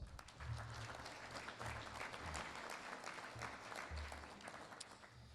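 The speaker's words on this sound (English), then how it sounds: "If we could give all of our partners one more round of applause." Audience at a 2022 general meeting applauding steadily for several seconds, a dense wash of many hands clapping throughout at a moderate, even level with no voices standing out.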